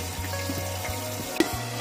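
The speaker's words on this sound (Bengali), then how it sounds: "আলুটা আমার ততক্ষণে ভাজা হোক।" Potatoes frying in hot oil in a pan on a lowered gas flame while cooking a mushroom dish, giving a steady close sizzle with a low hum and a brief clink partway through.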